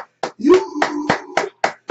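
A church congregation at a morning prayer service claps in a steady rhythm, about one clap every third of a second, close and fairly loud, with singing voices carrying over the clapping.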